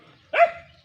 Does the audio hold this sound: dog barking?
yes